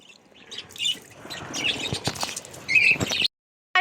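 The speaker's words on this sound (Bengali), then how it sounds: "ওই যে পাখিরে গোসল করাইতেছে" Pet lovebirds being bathed flap their wet wings in quick rustling bursts and chirp sharply and repeatedly, close and lively, with no talking.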